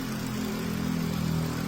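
Car engine idling after a thermostat housing repair, a steady mid-pitched hum with an even, smooth rhythm, close and continuous with no voices.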